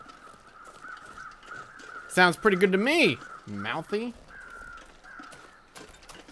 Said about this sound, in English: These birds flying around.